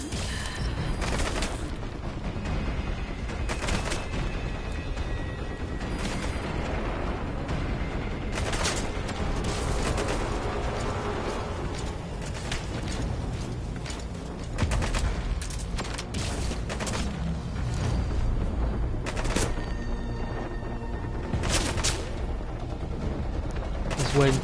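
Repeated bursts of gunfire in Metal Gear Solid V: The Phantom Pain, sharp shots and rattling volleys scattered through a busy mix, with someone talking now and then.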